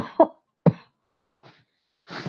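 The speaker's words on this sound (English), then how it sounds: "I'm going to cough" Two short, sharp coughs close to the microphone, followed by a faint breathy sound and a brief exhale.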